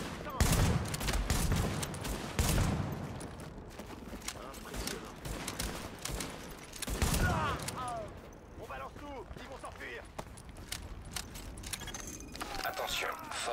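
Bursts of gunfire rattle through a firefight in The Division video game, with repeated rapid volleys and sharp shots at varying distances, interspersed with clinking mechanical sounds and voices speaking over the action.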